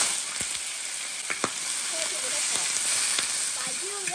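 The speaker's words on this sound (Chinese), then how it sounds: "咱们炒这个鸡呢一定要大火，咱们把油呢给它烧热，这会儿就可以下鸡肉了" Chicken pieces stir-frying over high heat in hot oil in a wok give a loud, even sizzle with occasional spatula clacks and scrapes, close and steady, with no voice heard.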